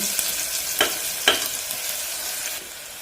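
Onions sautéing in a pan for a sardine gravy give a bright, steady sizzle, with two distinct scraping stir strokes early on, then the frying hiss continues alone, slightly quieter toward the end.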